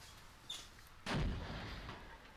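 In the war game Graviteam Tactics, a mortar strike lands as one sharp, distant boom that rolls into a low rumble, following a faint earlier crack.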